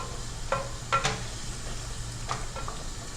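Onions and bacon frying in a pan, a steady broadband sizzle with a few brief stirring scrapes and clicks, close and moderately loud, no voices.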